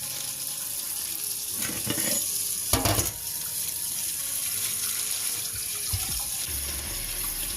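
Kitchen tap runs steadily to rinse boneless saltfish in a sink, a continuous close hiss with a few brief splashes and clatters breaking through around the middle.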